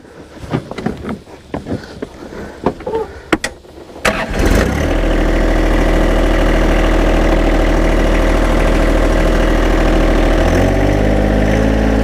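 A John Deere 1025R subcompact tractor's engine cranks and catches after a few seconds of clicks and handling noises, then settles into a loud, steady close idle that shifts slightly near the end.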